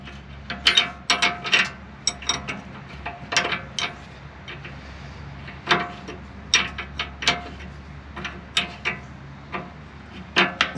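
Wrench ratcheting as the inner tie rod collar is tightened on a 1980-1996 Ford F150, bursts of close metallic clicks in quick clusters with short pauses, no talking.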